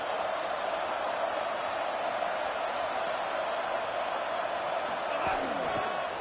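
Steady roar of a packed football stadium crowd before a big third down, a continuous dense wash of cheering and noise with a commentator's voice running over it.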